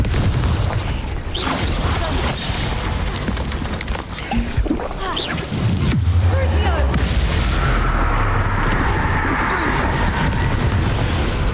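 Confringo explosion spells in Hogwarts Legacy video game: loud, dense blasts and crackling impacts run continuously, with a heavier low booming hit partway through and a roaring wash of noise afterward.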